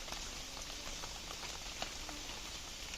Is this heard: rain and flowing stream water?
yes